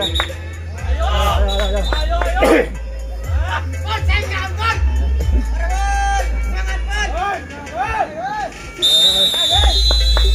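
A referee's whistle shrills briefly at a gobak sodor tournament match, then sounds again loudly near the end, over a crowd murmur and continuous talking.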